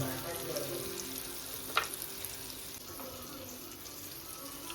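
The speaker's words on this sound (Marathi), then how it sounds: "मिरच्या पण पॅनमध्ये मस्त तेलामध्ये सोडले आणि गॅस बारीक केले" Green chilies frying in oil in a pan on low heat, a soft, fairly quiet sizzle that runs steadily throughout, with one brief sharper crackle partway through.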